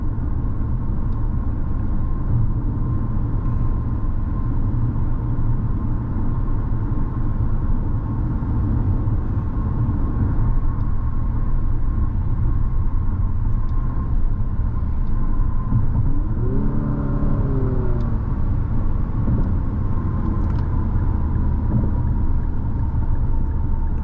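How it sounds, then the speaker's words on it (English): Steady road noise inside a 2024 Infiniti QX55 Luxe on the move: a low, even rumble and tire hum with a faint whir, constant and moderately loud, with no talking. "Ride is pretty comfortable. Road noise isn't too bad either."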